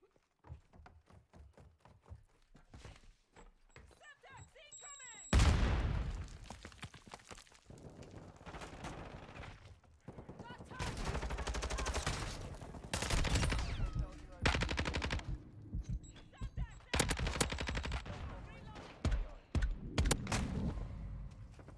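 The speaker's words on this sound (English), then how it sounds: "rifle, and pistol shots hit him" Dense bursts of rifle and pistol gunfire in Call of Duty, starting with sparse taps and then erupting into loud, sustained volleys with a few pauses, close and harsh throughout.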